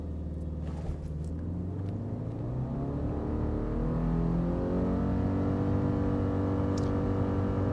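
A 2026 Subaru Forester Wilderness in Sport Sharp mode launching from a brake-torqued stop to 60 mph, its engine droning steadily as revs climb and hold near 5,800 RPM, loud and continuous from inside the cabin.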